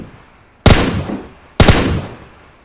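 Two sharp, loud gunshots from PUBG Mobile about a second apart, each a close crack with a short decaying tail, heard alone without talk.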